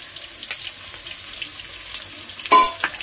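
Boiled potatoes fry in oil with salt in a pan in a village kitchen. A soft, watery sizzle sits under a few brief scrapes and a louder clatter near the end.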